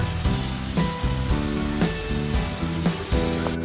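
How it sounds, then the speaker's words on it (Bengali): Masala spice paste fries and sizzles in a pan, a close, continuous crackling hiss with small repeated pops and bubbling, and no one speaks. "তো মশলাটা ভালো করে কষিয়ে নিই, তারপর আসছি।"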